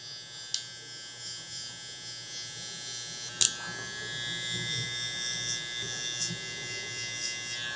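Electric hair clippers cutting a blowout taper on curly hair keep up a steady, close, low buzz with a high whine, broken by a few sharp clicks and brief taps as the lever is adjusted. No one talks.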